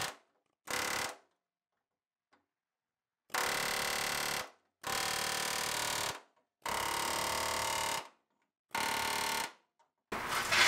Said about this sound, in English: So we're going to take an air chisel. We're just going to hit this, not the part we're using.